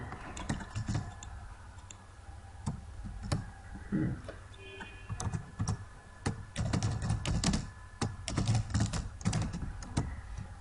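Typing on a computer keyboard: a steady run of quick, close-up key clicks with uneven rhythm and occasional heavier strokes, continuing throughout with no talking.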